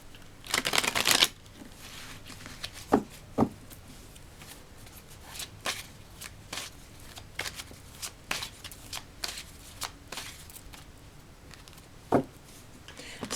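Guidance cards shuffled by hand, a loud riffle burst at the start followed by scattered soft shuffling ticks and card snaps in a quiet room, with no voices.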